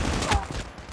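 Rapid automatic gunfire from a gun in Call of Duty: Mobile, a dense continuous burst of shots, loud and close, with a voice faintly underneath.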